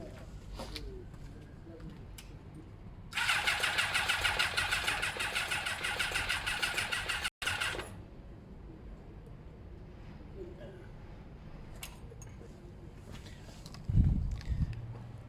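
A Kawasaki ZL600 motorcycle with carburettor trouble cranks loudly and harshly for about four seconds before cutting off abruptly, followed by a quieter low rumble and a few faint knocks and clicks nearby.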